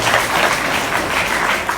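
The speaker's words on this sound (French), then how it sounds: "je vous demande de l'applaudir" A crowd at a hip hop panel event applauds a guest, loud, dense clapping that carries on evenly throughout.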